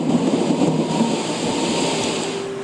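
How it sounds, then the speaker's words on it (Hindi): Steady, dense rumble and hiss of a heavy thunderstorm with rain pouring continuously at a loud, even level and no voices. "तूफान बड़ा था"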